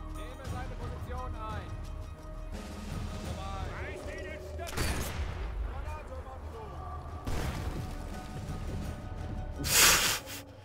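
Sniper rifle shots in the video game Sniper Elite 4, a few sharp loud cracks spaced apart, heard under near-continuous talking over game music and ambience.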